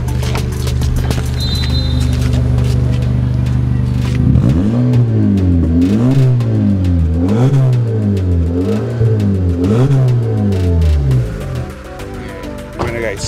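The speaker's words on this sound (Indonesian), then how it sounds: "yuk gue dengerin suara knalpotnya" A 2021 Honda City Hatchback exhaust idles steadily, then is revved repeatedly in a rhythmic series of rising and falling blips before settling back to idle, loud and close.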